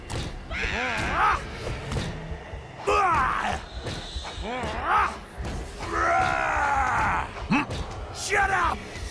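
A Borderlands 2 enemy lets out repeated loud, wavering screams and yells in drawn-out bursts with short gaps between them, close and harsh.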